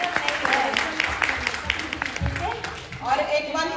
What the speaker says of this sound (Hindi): तालियां बजा दीजिए यार